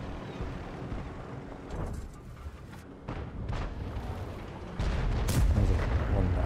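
In World of Tanks gameplay, several booming tank cannon shots sound at mid distance amid steady battlefield rumble. A heavier blast hits near the end.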